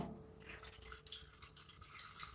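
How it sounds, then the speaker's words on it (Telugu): Chicken pieces for pickle being rinsed again under water in a kitchen, a steady low splashing and dripping with faint trickles throughout, no voices. "మళ్ళీ ఒకసారి వాటర్ పోసుకుని శుభ్రంగా కడుక్కుందాం"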